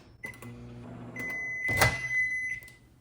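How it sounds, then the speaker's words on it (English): A steady electric hum with a high tonal whine runs throughout, with a few clicks and a brief louder rattle partway through; no talking. "Back in the microwave for 30 seconds."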